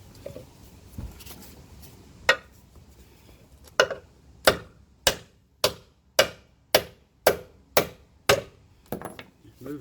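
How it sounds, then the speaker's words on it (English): Hammer blows strike a wishbone polyurethane bush on a Ford Mondeo Mk3 ST220, starting with a few scattered knocks and then settling into a steady run of about ten sharp, loud metallic hits roughly half a second apart. "I'm going to smack this with a hammer, see what happens."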